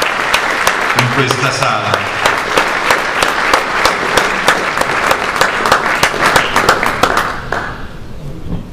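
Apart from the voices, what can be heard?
applause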